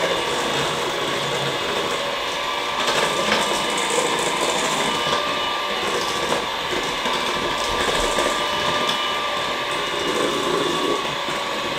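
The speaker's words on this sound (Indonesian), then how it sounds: "Dan sekarang kita mixer dengan speed yang rendah dulu ya," Electric mixer running at low speed through banana cake batter, a steady loud mechanical whir with faint rattling, continuous and alone.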